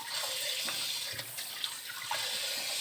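Tap water runs steadily over cut potatoes being rinsed in a sink while making homemade fries, a continuous close splashing hiss with small bumps of handling.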